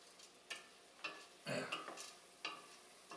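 Mushroom risotto with red wine sizzling in a pan as the liquid cooks off, soft crackling frying texture with a few louder stirring scrapes and bursts spread across the clip, fairly quiet and close, no talking.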